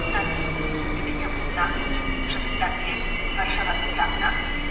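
Intercity train hauled by an EU160 Griffin locomotive with eight coaches, substituting for an ED250 set, pulls into Warszawa Zachodnia station: a steady rail rumble with faint wheel squeal carries throughout, while someone talks nearby.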